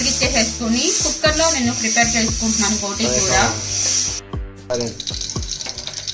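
Cooking water being poured off boiled goat tripe: a loud, steady rushing splash for about four seconds that cuts off abruptly, followed by quieter clinks and trickles.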